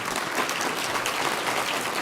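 Brief burst of dense audience applause at a business council mayoral forum, a continuous even patter of many hands, fairly full and unbroken.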